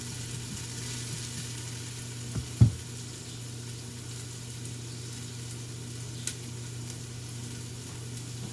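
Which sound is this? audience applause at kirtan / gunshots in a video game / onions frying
onions frying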